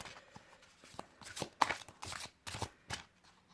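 Tarot cards are shuffled by hand in short bursts of crisp riffling and soft slaps, about seven quick rustles spread over a few seconds, close and quiet with no talking.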